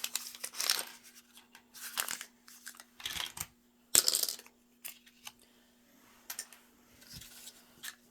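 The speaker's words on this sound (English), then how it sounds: "So I'm just going to unwrap him." Small plastic packaging around a miniature toy animal being torn and crinkled open, with bursts of close crackling, tearing and rustling separated by brief pauses.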